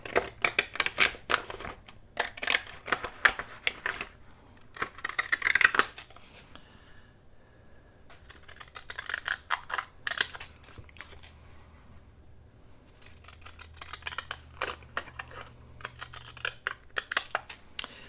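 Small decorative-edge scissors trim paper for a file folder journal, making bursts of crisp, close snipping that come in uneven clusters with short pauses.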